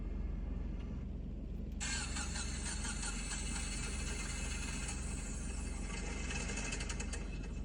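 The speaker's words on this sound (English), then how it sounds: "Sounds like it has bent valves." An idling Subaru Forester engine with bent valves ticks and clatters in a fast, uneven rhythm, a loud metallic tapping joining in partway through.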